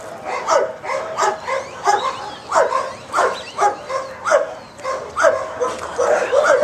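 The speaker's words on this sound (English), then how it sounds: "somebody's barking at us, aren't they?" A dog barks and yips repeatedly in a quick, steady rhythm, close by and loud.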